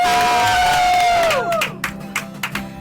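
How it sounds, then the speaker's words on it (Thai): A crowd at a Songkran festival beauty pageant in Phra Pradaeng claps and cheers loudly as the winner is announced. A whistle-like tone glides down early on, then scattered claps and shouts continue. "ปรบมือ"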